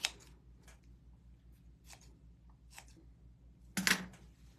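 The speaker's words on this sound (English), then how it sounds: "I'm just trimming this down a little bit." Scissors snip through yarn while trimming a pom-pom, producing a few sparse, faint crisp cuts followed by one louder, closer snip near the end.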